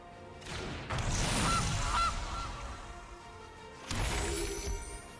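A Gilded Goose card played in the Magic: The Gathering video game lets out two loud, raspy goose honks, the first long and the second shorter after a brief gap.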